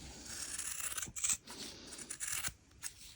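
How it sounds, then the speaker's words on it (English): Scissors snip through sewn fabric, trimming down the seam allowance on dress straps, with a few close, crisp cuts and slicing sounds in a quiet room. "So we're just going to trim down that seam allowance there."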